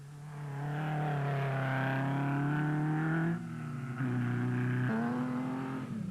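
Toyota Hilux 2.7i rally trucks in Class E of a desert rally race, a loud close engine holding a steady high drone with rising pitch sweeps and brief gear-change dips, continuous throughout.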